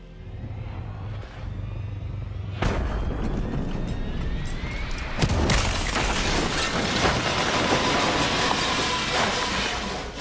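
A plane crash in a video game: a loud boom erupts, then a second blast, followed by a long, heavy rumble and roar of debris and fire that carries on steadily.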